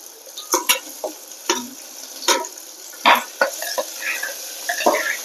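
Sliced onions fry in a pan as a spoon or spatula stirs them, bringing a soft sizzle under repeated scraping knocks and clatters of utensil on metal, close and uneven in rhythm.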